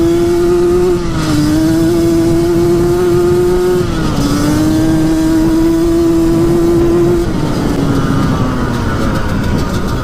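A Yamaha Banshee ATV engine revs hard and loud up close, its steady high drone dipping briefly at each upshift before climbing again, with wind and riding noise underneath.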